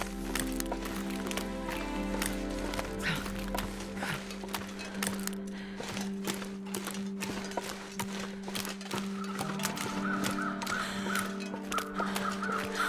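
Crows caw repeatedly in The Long Dark, harsh calls scattered over a steady low in-game wind drone, with occasional clunky movement sounds.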